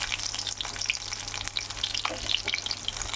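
Banana flower fritters frying in hot oil over a high flame, giving a dense, continuous crackling sizzle with many small pops close by, with no voices.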